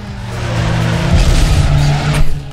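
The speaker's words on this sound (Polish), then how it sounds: "Jakie teraz drifty robi" A Peugeot 106 drifts in Need for Speed Underground 2, its engine droning loud and close while tires scrub and squeal through the slide, rising in a brief sharper screech near the end.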